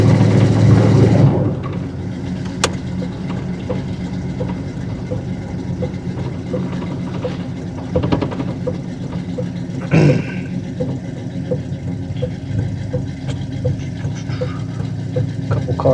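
A 1988 Monte Carlo SS with 8,600 original miles idles steadily from inside the cabin, a low continuous engine hum with a louder burst at the start and a few faint clicks and voices.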